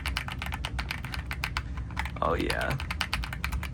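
Rapid, close clacking keystrokes from an AULA S75 Pro mechanical keyboard, dense and heavy, typed in a steady rhythm, with someone briefly speaking over the typing.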